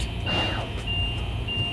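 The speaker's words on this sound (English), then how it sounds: "The really annoying beeping noise you hear is because we have to have the engine on the accessory" Three long, high electronic beeps from an RV leveler system with a short sound at regular intervals over a low idling engine rumble.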